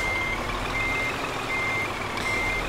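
Truck reversing beeps in Scania Truck Driving Simulator, a steady repeating high beep over a loud engine rumble, evenly spaced and continuous throughout.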